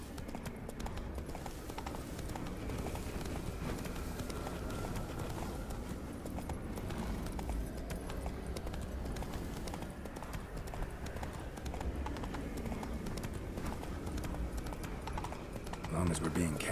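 Roach, a horse in The Witcher 3, gallops in a fast, steady hoof rhythm across the whole stretch, close and continuous beneath game music and spoken dialogue.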